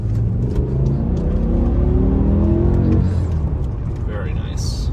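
A BMW E60 M5 with a V10 and six-speed manual revs hard while accelerating in second gear, a loud rising engine roar heard from inside the car that tops out and drops away as the gear ends, with someone talking over it.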